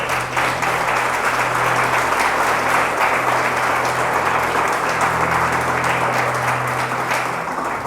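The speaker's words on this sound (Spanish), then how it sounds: "Dale un fuerte aplauso a Dios por eso." A church congregation applauds loudly and steadily during a sermon for several seconds, a dense wash of clapping with a low hum underneath.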